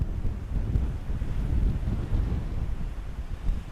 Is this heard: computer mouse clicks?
no